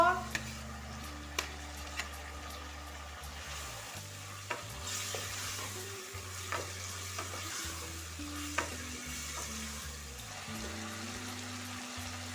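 Fried pointed gourd and potatoes go back into a pan holding mustard paste, giving a soft steady sizzle with occasional stirring clinks and knocks spread across the stretch, fairly quiet overall.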